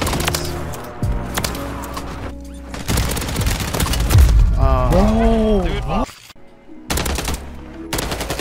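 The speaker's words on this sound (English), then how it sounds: "I'm getting shot from the rooftop," Rapid automatic gunfire rattles in bursts during a Warzone 3 firefight with the RAM 9 SMG in play, loud and close, broken by short pauses and game sound effects, with a player talking over it.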